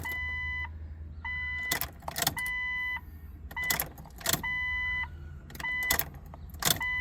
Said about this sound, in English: We'll prime it a couple more times and we'll get fuel in the fuel rail.